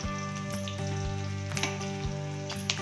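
Steady crackling sizzle of a paneer curry frying in hot oil on a high flame, with a low hum underneath and occasional sharper pops and stirring clatter.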